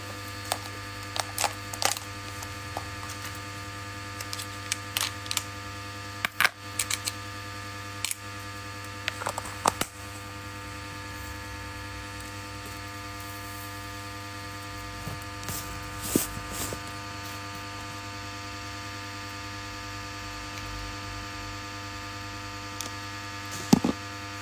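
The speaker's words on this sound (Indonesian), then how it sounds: "Bunyi kipas." An electric fan hums steadily and faintly, with a low continuous drone and a few scattered soft clicks and taps, and no talking.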